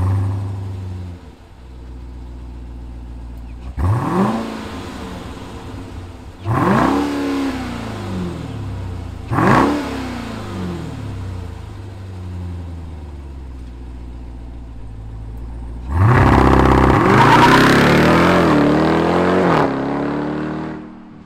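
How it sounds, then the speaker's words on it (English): A 2021 Dodge Durango Hellcat supercharged SUV starts up and settles to idle, then gives three sharp revs a few seconds apart and finishes with a longer, louder sustained rev, all loud and close with no talking. "Let's fire up this Durango Hellcat and hear what it sounds like."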